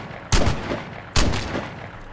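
Two loud, sharp gunshots from the video game Vigor ring out close, spaced under a second apart, each with a booming echo that trails off, and there is no talk.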